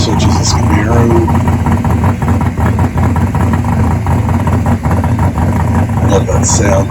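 A Camaro rolling into Pro Street Alley at the 2025 OBX Rod and Custom Festival car show, running on racing gas, gives a loud, steady, close engine rumble that lasts throughout while someone talks over it.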